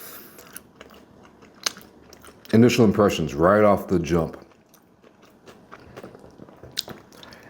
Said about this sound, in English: I mean, you cannot deny that crunch. I don't know if it's coming through. It's crispy and crunchy.